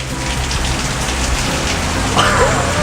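Torrential Arizona monsoon rain pours down in a dense, continuous hiss of drops striking surfaces close by, loud and unbroken for the whole stretch.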